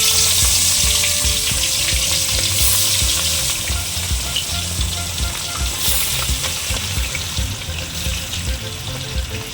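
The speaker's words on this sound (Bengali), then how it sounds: "এবার এক এক করে এই কাটাগুলোকে এই কড়াইয়ের মধ্যে আমি দেব" Bhetki fish bones dropped into hot oil in a wok over a low gas flame, a loud, sustained close sizzle with bubbling crackle that eases slightly as it goes, no voices.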